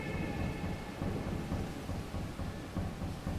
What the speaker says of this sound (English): The rain came down in buckets, but even through all the thunder